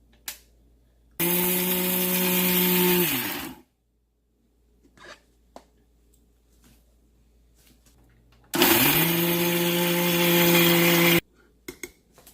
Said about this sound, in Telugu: ఇప్పుడు మిక్సీలో మనం వేయించుకున్న మిర్చి పెట్టి మూత పెట్టుకుని ఇప్పుడు మనం గ్రైండ్ చేసుకోవాలి